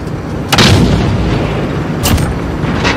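An air-support gunship opens fire in Call of Duty Modern Warfare multiplayer Drop Zone. Two sharp, heavy cannon blasts land about a second and a half apart and stand out over a dense, loud battlefield rumble.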